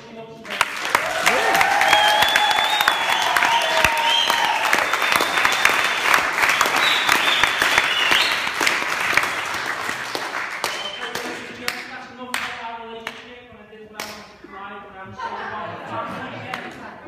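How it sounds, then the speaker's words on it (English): Wedding guests at a hotel reception give a long, dense round of applause that dies down after about ten seconds into scattered claps, with a voice heard under and after it. "please very quickly have a very generous round of applause for how beautiful she looks today"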